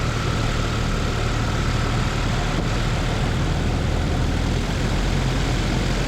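A Zenith CH 750 Cruzer light sport kit aircraft's engine drones steadily and loudly from inside the cockpit, a dense, continuous propeller roar with no breaks and no voices.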